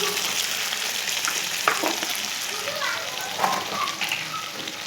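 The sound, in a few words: frying taro and potato with onion, salt, turmeric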